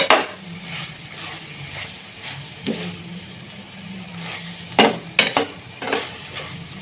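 Ridge gourd pieces stirred in a pan, with a soft sizzle under a string of spoon-on-pan scrapes and clinks, several sharp knocks bunched near the end.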